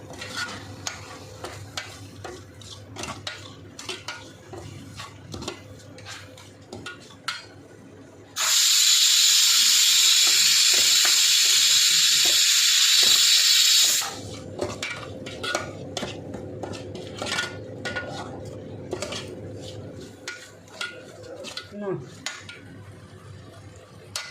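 Masala paste stir-fried in oil for restaurant-style dal fry, waiting for the oil to separate: steady scraping and stirring over a soft sizzle, with a loud burst of hissing steam in the middle before the stirring carries on.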